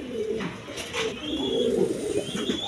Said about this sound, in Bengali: কবুতর, মুন্ডিয়ান কবুতর আছে দেখেন